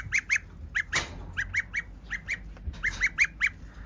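Geese honk in quick, irregular bursts of two or three calls, close and loud, with a brief noisy rustle partway through.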